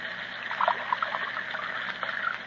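Hot broth trickles from a tin into a cracked cup, a faint, short, uneven dribble of liquid.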